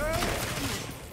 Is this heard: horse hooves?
no